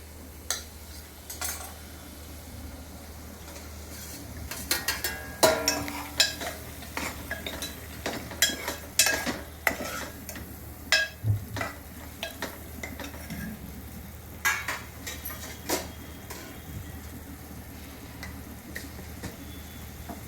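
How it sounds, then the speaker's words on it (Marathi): Chopped tomato goes into browned onion frying in a pan for misal, with irregular spoon scrapes and metallic clinks over a faint sizzle, close and moderately loud. "तर यात मगाशी कापलेला टोमॅटो टाकायचा"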